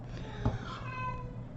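A house cat gives a single drawn-out meow, close and fairly clear, with a tonal wavering rise and fall lasting about a second against a low steady indoor hum.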